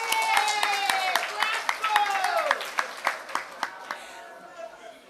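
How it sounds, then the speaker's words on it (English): Applause for vendors at an outdoor market day, a handful of people clapping with distinct individual claps thinning out over a few seconds, while voices and tonal sounds carry on over it. "Let's give a round of applause for them."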